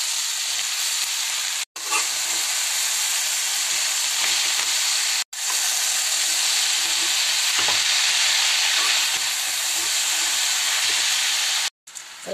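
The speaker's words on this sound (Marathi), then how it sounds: "आता टाकूया थोडीशी चिंच, आणि आता भाजी टाकून मस्त परतून घ्यायची" Leafy greens with a little tamarind frying and being stirred in a pan, a steady loud hiss and sizzle running almost unbroken with a few brief dropouts.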